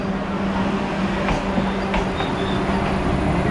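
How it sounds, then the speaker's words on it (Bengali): A Vande Bharat Express passes on the adjacent platform of a station, a loud continuous rumble of wheels and carriages with faint rhythmic clatter, heard close with no talking. "বন্দে ভারত এক্সপ্রেস। আমরা দাঁড়িয়েছি 5 নম্বর প্ল্যাটফর্মে, আর ওভারটেকটা হচ্ছে 6 নম্বর প্ল্যাটফর্মে।"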